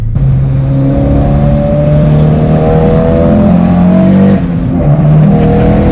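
A turbocharged Acura Integra engine revs hard and loud up close, its pitch climbing through the gears with a short dip as the tires lose traction, then pulling again.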